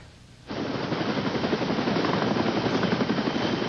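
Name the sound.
Care Flight helicopter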